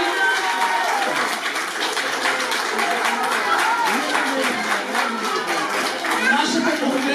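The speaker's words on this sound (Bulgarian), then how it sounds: "Аплодисменти!" Audience applause as a man is called onto the stage at a community cultural centre celebration: dense, steady clapping from a crowd that fills the room without a break, with a voice mixed in.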